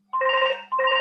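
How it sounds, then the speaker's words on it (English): A mobile phone rings nearby in two clear electronic tone bursts with a short break between them, over a faint steady hum. "Sorry, that's my phone going."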